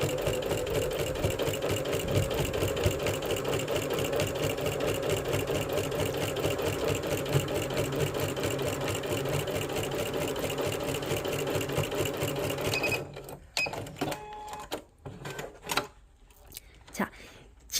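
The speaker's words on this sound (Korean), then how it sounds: "재봉해볼게요." Lion 9300S Cocogini sewing machine stitching through thick double-layered quilt fabric, a steady close mechanical whir for about thirteen seconds before stopping, followed by scattered handling clicks.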